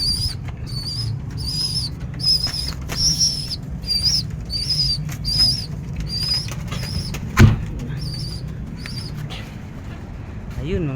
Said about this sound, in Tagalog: Ayun mga ibon din mga boss oh.